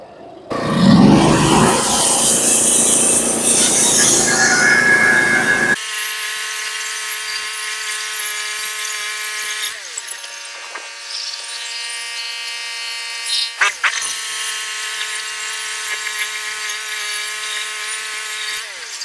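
A power saw cuts through wooden boards with a loud, dense roar lasting about six seconds. The blade then spins down to a ringing, tonal whine broken by a few brief knocks, close up and with no talking.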